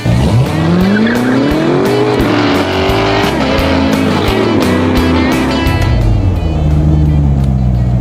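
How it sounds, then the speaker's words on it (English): A C7 Corvette with a valved catback exhaust revs hard on an airstrip and rises in pitch, with tire squeal and a raspy exhaust roar throughout, continuous and close. "We put our full catback exhaust system on it, and we decided to take it to an airstrip."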